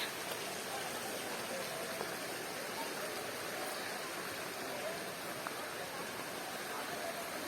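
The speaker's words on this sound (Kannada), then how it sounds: "ಎಲ್ಲ ನೀರು ಸಣ್ಣದಾಗಿ ಅರಿತಾ ಇದೆ" A small stream of water trickles gently along an outing spot, a soft continuous wash of flowing water heard fairly faint and steady, with no clear talk.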